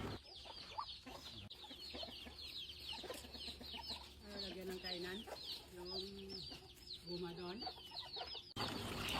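Newly hatched chicks and chickens kept in a cage on a farm, with steady peeping and repeated clucking close by, plus a few louder calls throughout.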